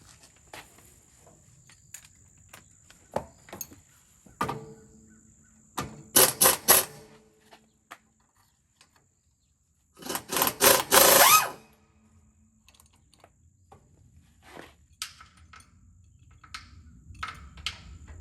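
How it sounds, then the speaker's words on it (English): Bolts being knocked out of the air dryer on a 1984 Freightliner cabover truck, heard as scattered close metallic taps and clanks with two loud bursts of powered tool whirring, quiet gaps in between. "Knock the bolts out of this air dryer."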